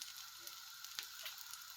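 Quiet, steady sizzling of pumpkin pancake batter frying in a pan, with a few faint pops and crackles.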